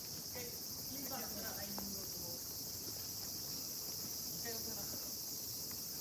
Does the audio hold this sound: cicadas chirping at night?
yes